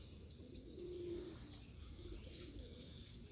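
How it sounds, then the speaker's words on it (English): Young pigeons in a loft coo softly at a distance, with one clear low coo standing out over a steady, faint background hum. "See most of the birds up there"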